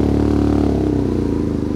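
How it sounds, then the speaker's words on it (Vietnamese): A BMW R nineT 100 Year Edition motorcycle fitted with an Akrapovic exhaust idles close by, a loud, steady, throbbing boxer-engine rumble with a slight mechanical clatter. "Bây giờ mình sẽ nổ máy lên như thế này đây."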